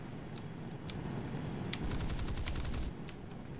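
Vampire FB.5 jet cannons firing in War Thunder: scattered single shots, then a dense rapid burst lasting about a second, fairly quiet.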